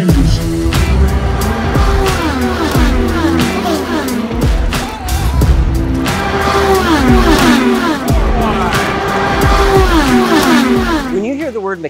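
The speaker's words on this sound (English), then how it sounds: "Start your engines!" Race car engines at the Andretti Autosport garage, loud and close, revving in repeated rising and falling sweeps that continue without a break and dip out at the very end, with possible music mixed in.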